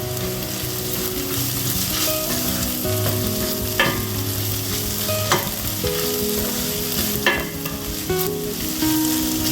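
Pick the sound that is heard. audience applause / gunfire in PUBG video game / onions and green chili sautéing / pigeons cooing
onions and green chili sautéing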